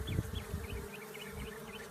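A small honeybee swarm being caught hums in a steady, dense drone, with individual bees whining higher as they pass close by. It continues without a break and no one speaks.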